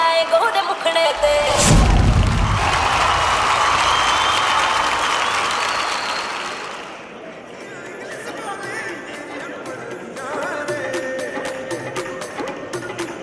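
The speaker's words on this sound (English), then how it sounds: "Ladies and gentlemen, a round of applause for the mass millennial dancers." Audience applause for dancers at a business anniversary and awards gala, strong clapping mixed with music and a thud early on, easing midway and then resuming as lighter scattered claps.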